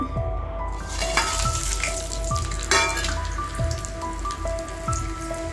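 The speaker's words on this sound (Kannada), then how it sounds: "ಸ್ವಲ್ಪ ಎಣ್ಣೆಗೆ ಬಿಸಿ ಮಾಡಿಕೊಂಡು ಈಗ ಅಷ್ಟೂ ಒಟ್ಟಿಗೆ ಹಾಕ್ಕೋಬೇಕು" Urad dal vada batter deep-frying in hot oil, a dense crackling bubble like rain on a surface, steady and close, with a few faint clinks and a low background hum, no voices.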